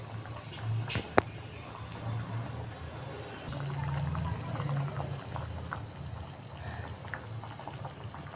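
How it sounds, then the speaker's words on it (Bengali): Red lentil dal with mango simmering in a pot, a faint steady bubbling with soft low gurgles and one brief sharp click near the start. "এবার ডালটা সিদ্ধ হতে দিলাম।"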